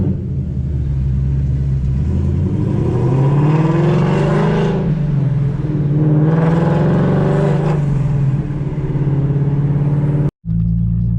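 An S550 Ford Mustang's deep Borla ATAK exhaust with headers rumbles loudly and rises in pitch as it pulls away and revs through gears, heard from inside a nearby vehicle, ending abruptly.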